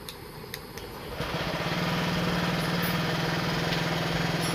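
A TVS XL 100 BS6 moped with a replaced HT coil is cranked on its self-starter and catches, then settles into a steady, close, even idle that keeps a smooth buzzing hum without dropping out.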